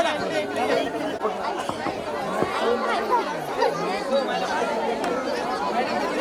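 A crowd chatters continuously at a Marathi celebration honoring a religious figure, a dense, steady murmur of many overlapping voices close by with no single voice standing out.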